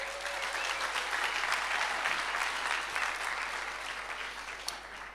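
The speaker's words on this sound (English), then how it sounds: "Can we just give it a round of applause?" A seminar audience gives a sustained round of applause, dense and steady from start to finish, with a single louder clap standing out near the end.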